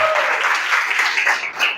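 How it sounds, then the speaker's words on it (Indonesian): A classroom at SMK Sahid Jakarta breaks into steady group applause for about two seconds, dense and fairly close, with no speech over it. "tepuk tangan untuk kita semua."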